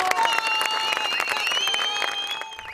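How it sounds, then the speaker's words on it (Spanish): Crowd applause with sharp individual claps rings out over sustained whistling or high-pitched tonal sounds, loud and close, tapering slightly near the end. "¡Aplausos, chiquillos!"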